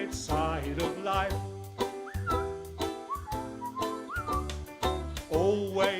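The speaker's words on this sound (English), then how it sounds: "Just purse your lips and whistle, that's the thing." Whistled melody rides over live band accompaniment during a song performance, with short pitched phrases and sliding notes carried steadily through the music.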